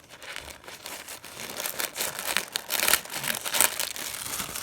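Paper crinkles and rustles while a Gucci box is unwrapped, a close run of crisp crackling bursts swelling and fading in irregular handfuls, with no talk.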